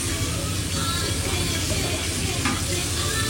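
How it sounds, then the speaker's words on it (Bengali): Fish frying in a pan gives a loud, continuous crackling sizzle that holds steady throughout, with a faint clatter near the middle and no clear voices. "আমাদের মাছটা রান্না হচ্ছে এখানে"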